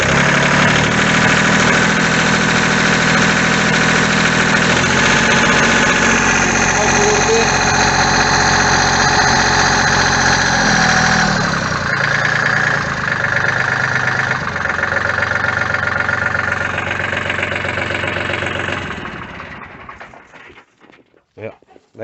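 A backhoe's diesel engine revs up to about 2,000 RPM, a loud sustained roar holding high before dropping back and sputtering toward idle near the end, with speech also present.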